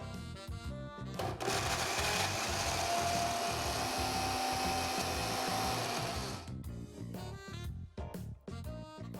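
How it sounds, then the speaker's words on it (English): A kitchen grinder blends red chili powder, roasted cumin powder and garam masala into a smooth paste, a loud steady whirring roar for about five seconds, framed by clunks and rattles of the jar before and after. "now grind this into a smooth paste"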